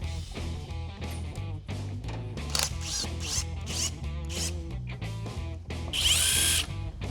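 Power tool, likely an impact or drill, spinning out the pan bolts on a transmission mounted on a stand during a drag-strip hearse build; loud bursts of whirring and rattling over a constant mechanical background, with a sharp high whine near the end.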